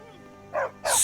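A dog named Stump in the video game Skyrim gives two quick, sharp barks, close and loud, the second one brighter.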